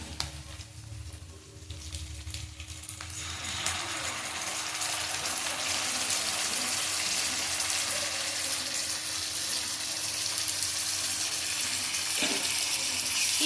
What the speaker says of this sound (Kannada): ಇದು ಹಸಿ ವಾಸನೆ ಹೋಗೋ ಗಂಟ ಚೆನ್ನಾಗೆ ಫ್ರೈ ಮಾಡ್ಕೋಬೇಕು